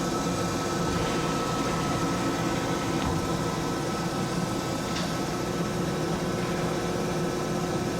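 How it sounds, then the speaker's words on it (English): Main spindle of a 2008 Okamoto OGM 1236UNCB CNC grinder running, a steady, quiet machine hum with a broad even whir that holds level throughout, no voices. "I'll run the main spindle now. Again, it's nice and quiet."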